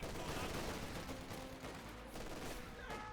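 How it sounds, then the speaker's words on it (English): Grenadier infantry in the video game Company of Heroes 2 pour rifle and machine-gun fire onto a vehicle crew, a dense rattling fusillade that sounds faint and continuous. "It's getting focus fired by the Grenadier."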